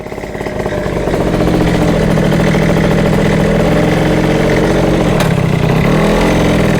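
Yamaha Jog 70cc scooter engine running loud and close, a steady buzzing drone that holds for several seconds with slight wavering, as though struggling to stay alive.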